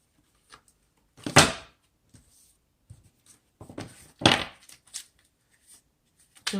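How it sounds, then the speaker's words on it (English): Oracle cards are shuffled by hand in two brisk bursts of papery riffling and flapping, separated by quieter taps and slides of the deck, close and otherwise silent. "let me just do a quick shuffle"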